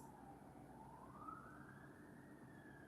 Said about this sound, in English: Oh, you hear those sirens?